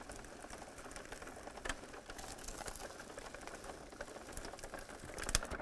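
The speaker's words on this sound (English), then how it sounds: "That's going to push the rollers together so that the fabric can run through." Xyron machine rollers pull fabric through in a steady, fairly quiet mechanical whir, with small clicks and rattles along the way and no talking.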